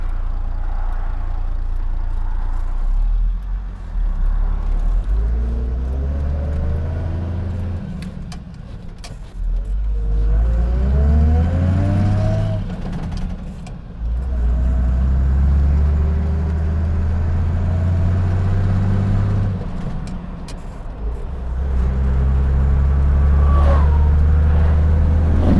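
A 1986 Ford F150 with a swapped Perkins diesel cruising on the highway: a low, steady engine drone whose pitch rises through gear changes, with road and wind noise in the cab.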